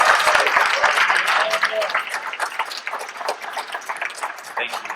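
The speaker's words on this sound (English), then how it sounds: "get another round of applause for this man" Live audience at a Star Wars fan convention breaking into a loud, sustained round of applause and cheering, dense clapping filling the space and gradually easing off.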